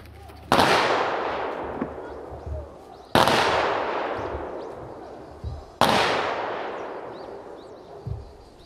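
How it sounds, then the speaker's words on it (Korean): Three loud rifle volleys from a ceremonial honor guard salute, evenly spaced about two and a half seconds apart, each a sharp blast followed by a long echoing decay outdoors. "조총은 3회 발사됩니다."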